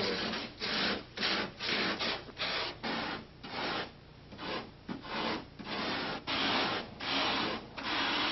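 Light polyurethane foam being carved for a model canyon, a steady rhythmic rasping and scraping in repeated strokes of about half a second, close and alone.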